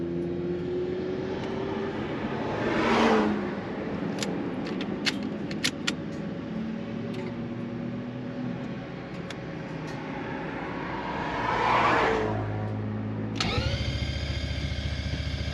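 Three-rotor rotary engine race car on a track, engine droning and rising and falling through revs with two louder swells. Near the end the engine suddenly cuts to a different steady tone. No one speaks.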